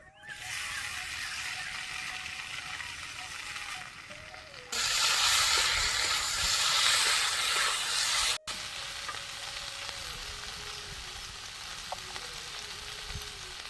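Potatoes tossed into a hot pan for aloo chop, with peanuts already in, sizzle and fry steadily, the hiss growing louder midway as they are stirred, then settling back to a constant frying crackle.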